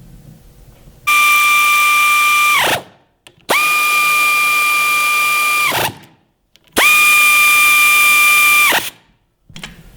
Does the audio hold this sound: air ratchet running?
yes